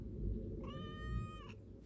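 A cat in the Haikyuu!! anime gives a single drawn-out meow lasting nearly a second, bright and tonal, over a low background of music and ambience.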